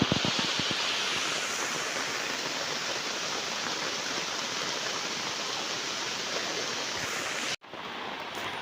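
A broad, unbroken roar of rushing water from a stream swollen by heavy rain, loud and steady throughout, cut off briefly near the end.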